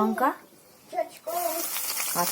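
Panch phoron seeds and green chilies sizzle in hot mustard oil in a wok, a steady frying hiss that swells after a brief pause, with someone talking over it.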